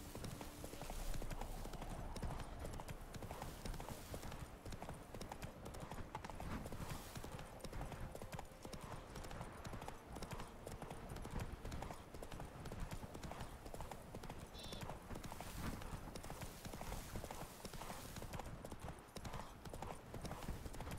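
The horse Roach in the video game The Witcher 3 walks with steady, rhythmic hoof clip-clops, close and continuous, while someone talks briefly over them.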